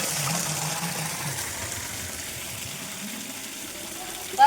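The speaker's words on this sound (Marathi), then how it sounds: "अशा प्रकारे नळावर पाणी इलेला आम्ही पाणी" Water running from a village tap, a steady splashing gush at moderate level throughout, with a brief louder knock at the very end.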